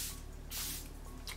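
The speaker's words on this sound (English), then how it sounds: "I'm going to do one last misting of setting spray." Charlotte Tilbury Airbrush Flawless Setting Spray misted onto a face in two close, breathy hissing bursts, the first sustained briefly and a second short puff just after.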